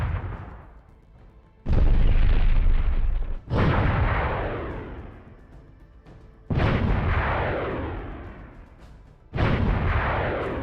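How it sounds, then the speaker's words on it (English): Saber missile fire from the Halo 3 video game: four heavy, booming launch blasts at irregular intervals, each dying away in a long rumbling tail, slightly muffled. "Saber Missile"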